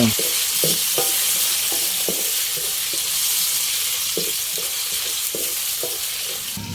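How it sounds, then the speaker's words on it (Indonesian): Ground sambal spices with shrimp paste stir-fried in hot oil: a steady close sizzle with repeated scraping strokes of a spatula against the pan, no voices. "Langsung tumis kabeh bumbu sing nggon cowek mau"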